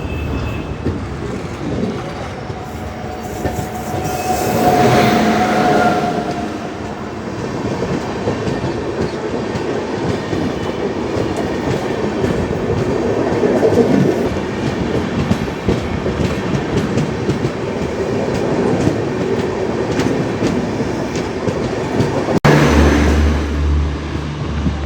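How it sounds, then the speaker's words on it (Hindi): Gondwana Express passenger train from Hazrat Nizamuddin to Raigarh rushing past on the opposite track, a steady loud roar of wheels and rattling coaches with clickety-clack rhythm throughout, heard from inside a moving train. "चलिए सामने से आ रही है गोंडवाना एक्सप्रेस, हजरत निजामुद्दीन चलकर रायगढ़ को जाने वाली।"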